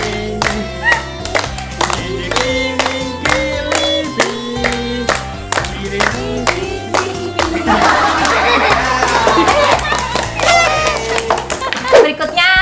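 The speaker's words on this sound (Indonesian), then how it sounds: "Kita kasih tepuk tangan aja ya, biar Mas Arifnya semangat." A live audience claps over loud rhythmic music at a family party game show, with dense, steady applause swelling through the latter half and continuing under the beat.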